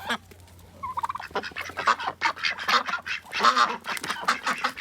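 Loud, repeated honking and quacking calls from farm waterfowl nearby in freezing winter weather, coming in uneven bursts with a faint steady hum underneath.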